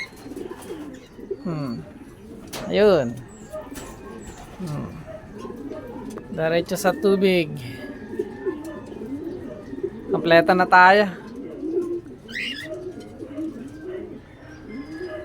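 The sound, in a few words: racing pigeons cooing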